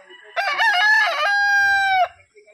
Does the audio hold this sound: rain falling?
no